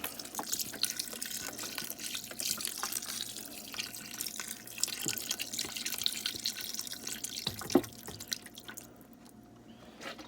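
Chicken broth pours steadily into a pot of Southern-style collard greens, a continuous liquid trickle with small drips and splashes, close and moderately loud, ending with a brief clunk.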